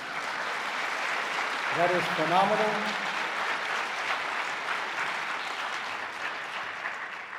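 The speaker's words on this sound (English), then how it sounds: "That's worth an applause, folks." Audience applause inside a school district's performing arts center, a steady wash of clapping throughout, with a voice briefly speaking over it near the start.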